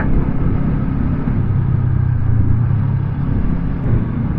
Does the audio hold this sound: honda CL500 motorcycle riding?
yes